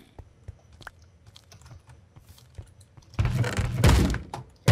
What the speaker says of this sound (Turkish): Kapıya mı vuruyor zombiler?